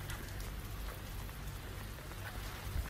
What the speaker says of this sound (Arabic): ها أمطار ما شاء الله، أمطار الخير.